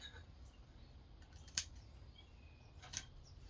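Two crisp snips of scissors trimming the roots of a ground-grown yew bonsai, close and isolated, separated by about a second and a half of quiet.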